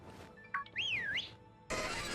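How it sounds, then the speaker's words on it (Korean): In Pokémon Sword and Shield, the player character whistles a short rising and falling tune, clear and close, after a quick chirp, before a burst of game noise cuts in; no one talks. "휘파람 불어볼까?"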